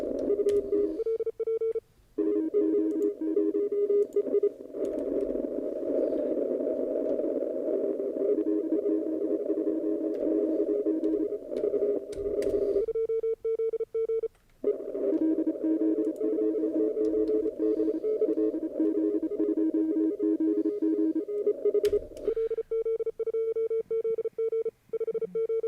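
Amateur radio CW pileup with many Morse code stations calling at once, a dense band of overlapping steady tones keying in and out continuously, loud, with brief gaps as the receiver is retuned.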